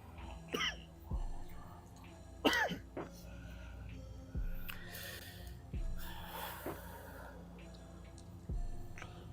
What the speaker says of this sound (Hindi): आपको भी खांसी लगी हुई है यार